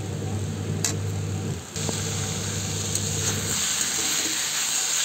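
Fish head and potato pieces with turmeric fry in a pan, giving a continuous close sizzling hiss with a low hum underneath and an occasional stir.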